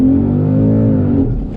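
A 2014 Ford Mustang GT California Special V8 accelerates hard with a loud, steady engine roar that climbs in pitch and then eases off near the end; no talking.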